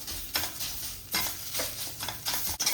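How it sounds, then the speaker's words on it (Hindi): Roasted gram flour is stirred and fried in a pan with radish filling for paratha, giving a close, steady sizzle broken by rhythmic scraping strokes of a spoon against the pan. "तो बिल्कुल अच्छे से इसे मिक्स कर फ्राई कर लेंगे।"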